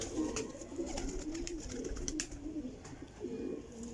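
A Sialkoti pigeon coos steadily and close by in soft, low, rolling phrases, with faint chirps and clicks from other birds in the background.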